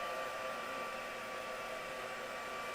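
A heat tool blows a steady, loud whir to dry ink on a poinsettia card, the airflow holding an even roar without a break and with no voices over it.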